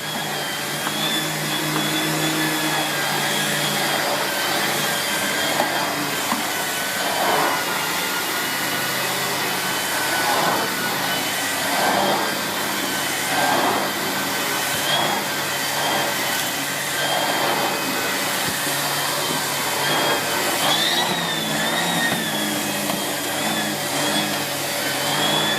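A Miele S8730 HEPA canister vacuum cleaner (C3 Complete) runs steadily and loudly at close range, a continuous motor drone with a high whine and slight wavering as it is pushed across the floor, with no talking.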